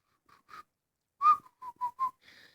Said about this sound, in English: he's walking around whistling. He's literally whistling.